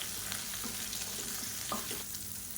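Chillies, tamarind and vegetables sautéing in a pan for tomato mint chutney, a steady sizzle with soft scraping stirs throughout, no voices.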